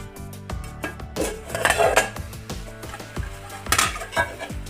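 Metal pots and pans clatter on a home stove while Maharashtrian harbharyachi bhaji (green chickpea vegetable) cooks, with a lid lifted off the pan among a run of sharp clinks and scraping knocks, close and fairly loud, no talk.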